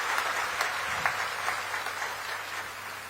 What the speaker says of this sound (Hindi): एक बार जोरदार ताली के साथ हमारे माननीय मुख्यमंत्री जी के आप स्वागत व अभिनंदन कर देते हो